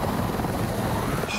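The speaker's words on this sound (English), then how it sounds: "Get to the chopper!" A helicopter in the VR game Arizona Sunshine 2 thunders close overhead, its rotor chop a steady, loud rumble that fills the whole moment without speech.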